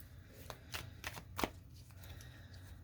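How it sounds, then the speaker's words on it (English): Tarot cards shuffled by hand, a few quiet riffling bursts with one sharper, louder snap in the middle, all over a faint low hum. "Two more shuffles here, please"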